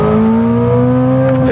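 A Corvette C8 ZR1 pulls hard through second gear on a track's front straight, its engine a loud, steady, close drone with rising harmonics filling the whole moment.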